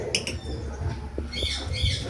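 An escaped violet opaline lovebird in an aviary gives a couple of sharp, close squawks amid light rustling and fluttering, with no one speaking.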